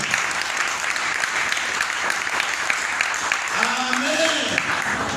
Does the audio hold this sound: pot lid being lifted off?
no